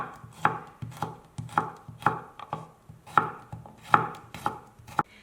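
A knife chops scallion whites and garlic slices on a cutting board, about a dozen sharp, close knocks in an uneven rhythm with brief pauses between strokes. No one speaks.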